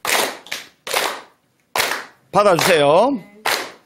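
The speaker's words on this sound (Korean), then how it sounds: "박수 시작" A handful of sharp, widely spaced claps ring out loud and close during a Buddhist monk's talk, followed by a short burst of singing voice before one more clap.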